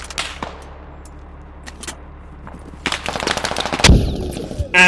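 Gunfire from the military shooter Squad: scattered single shots at first, then a burst of rapid close automatic fire and a loud blast, over low rumbling background noise.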